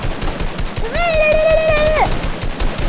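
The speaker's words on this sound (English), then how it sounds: "I'm taking fire! I'm taking fire!" Gunfire strikes the player in the Fortnite video game, a loud burst of shots heard close over the game's background noise, along with a sustained tonal whine in the middle of the clip.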